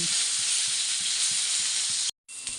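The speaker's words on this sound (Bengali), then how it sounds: "এখানে এখন বেগুন ভাজা চলছে" Eggplant frying in oil produces a loud, steady sizzling hiss, broken by a brief silent gap before the sizzle resumes, with faint stirring knocks underneath.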